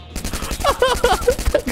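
Rapid bursts of gunfire from Free Fire, a mobile shooter game, crackle in quick succession, with voices talking over the shots.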